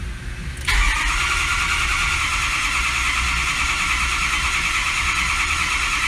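A Ford F550 with a 6.0 PowerStroke diesel engine turns over at a slow, steady crank after a quiet start. The loud, even starter-and-engine drone holds without a break, and no one speaks.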